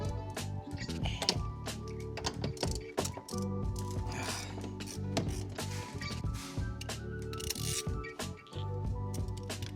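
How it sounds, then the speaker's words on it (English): A ratchet clicks rapidly and repeatedly up close as seat bolts are loosened from the interior of a 20-year-old BMW E46, with short bursts of metallic ratcheting and tool clatter throughout. "So the first thing we got to do here is get these bolts taken off."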